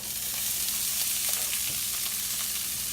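Continuous hissing sizzle of chopped vegetables and diced peppers frying in a hot pan, close and steady, with faint clicks of stirring throughout.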